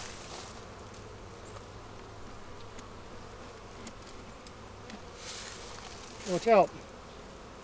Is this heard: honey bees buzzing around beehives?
yes